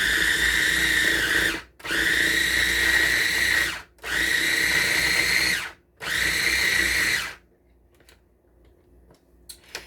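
A small food processor chops butter and flour for croissant dough in four loud whirring pulses of about two seconds each, separated by short gaps, before falling to near quiet with faint clicks.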